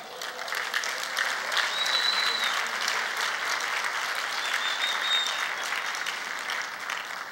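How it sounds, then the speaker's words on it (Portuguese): A congregation at a pastors' gathering breaks into steady, sustained applause, dense clapping filling the hall for several seconds with a faint whistle or two above it. "Vamos dar um aplauso ao Senhor?"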